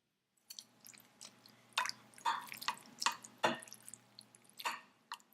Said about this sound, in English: Now pour it into some cold drinking water to get rid of any extra cornstarch.